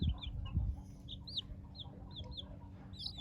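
Chicks in a coop peep in short, high, repeated calls spaced through the moment, faint and fairly close, over a low background hum with a few soft bumps at the start.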